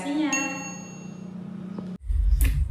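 A bright notification bell dings once and rings out with a long, shimmering decay, then cuts abruptly into a louder, noisier burst of sound.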